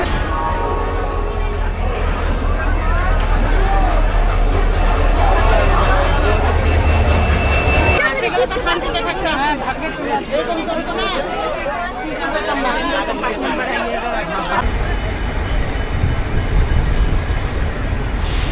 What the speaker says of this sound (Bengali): এখন রয়েছি হাওড়া স্টেশনের নিউ কমপ্লেক্সের 17 নম্বর প্ল্যাটফর্মে।